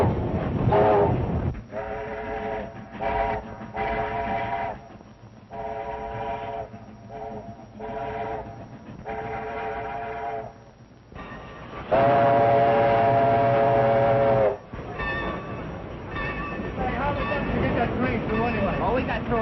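A train whistle blows in repeated loud blasts, one long held blast near the middle, over rumbling rail noise with voices talking around it.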